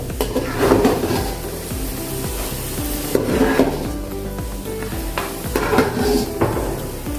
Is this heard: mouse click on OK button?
no